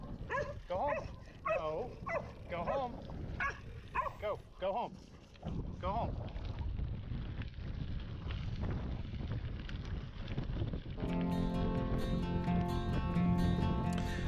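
Dogs along a gravel road on the historic Chisholm Trail in North Texas bark and yip in short bursts over heavy wind noise, with someone talking to them, before music comes in.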